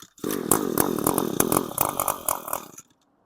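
A small two-stroke engine on full choke fires up and runs for a few seconds with a rough, buzzing, sputtering note close by, then cuts out abruptly.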